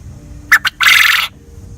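A loud, close quail call: two quick chirps followed by a longer, raspy trilled note, with near silence around it.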